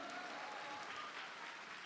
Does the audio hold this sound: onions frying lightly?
no